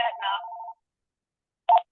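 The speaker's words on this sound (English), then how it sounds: "is that your phone?" A phone tone sounding in an indoor setting: a short electronic tone sequence, then silence, then one more brief beep, loud and close with no talk over it.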